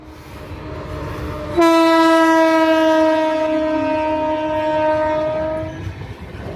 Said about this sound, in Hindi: जी हाँ, ये जबलपुर सोमनाथ एक्सप्रेस है